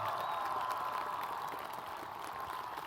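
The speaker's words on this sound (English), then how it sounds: "Let's give them one more great Red Mountain applause for that accomplishment." Audience applause at a high school class of 2014 graduation ceremony, a steady dense wash of clapping across a large crowd, fairly distant and even throughout.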